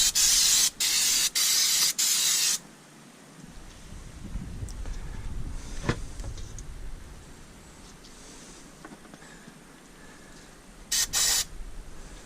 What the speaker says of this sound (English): So I got brake cleaner.